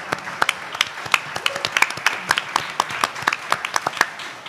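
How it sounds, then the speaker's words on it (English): An audience applauds speakers at a panel event on democracy, with dense, steady clapping made of many sharp individual claps throughout, fairly close and continuous with no talking. "I would like for us to give them all a round of applause"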